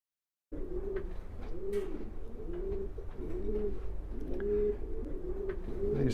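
Racing pigeons in a loft, a pedigree breeding pair among them, coo in steady repeated rolling phrases, close and continuous with soft rustle behind and no talk.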